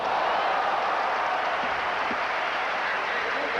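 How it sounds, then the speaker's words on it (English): Stadium crowd applauding a pole vault clearance at the 1987 IAAF World Indoor Championships, a steady dense wash of clapping and cheering that holds evenly throughout with no speech. "the crowd reaction on a clearance in the pole vault"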